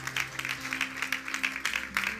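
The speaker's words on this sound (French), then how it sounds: "Clap for these faithful people." Church congregation claps during a bilingual sermon, a short burst of rhythmic, fairly loud clapping in a reverberant hall, with a low sustained tone underneath.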